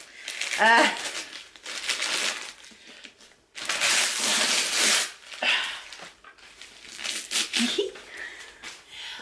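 Wrapping paper crinkles and rustles loudly in several close bursts as a wrapped special-edition hardcover book is unwrapped, with a voice and breathy sounds mixed in.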